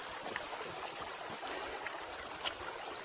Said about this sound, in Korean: 산속의 개운 물소리가 참 좋습니다.